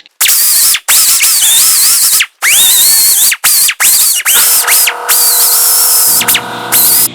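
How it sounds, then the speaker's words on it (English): A die grinder fitted with a sanding drum cleans the eyes of a leaf spring from a Scout front-axle suspension restoration, with loud high-pitched whining bursts that rise and fall, cut by brief pauses as the tool works. "I will clean the eyes of the spring with the die grinder with a sanding drum."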